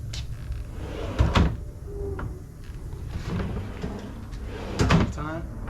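Soft-closing drawers on an RTA cabinet are pushed shut, each closing with a muffled thud as it settles, under steady background noise.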